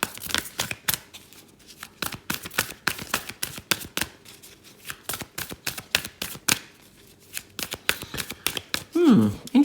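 A deck of tarot cards is shuffled in rapid bursts of riffling and slapping, close and loud, with brief pauses and a soft voice murmuring near the end.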